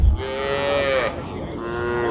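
A cow moos at a native Kangeyam cattle market, one long, loud, close call that bends in pitch, followed by a quieter trailing moo against a busy outdoor background.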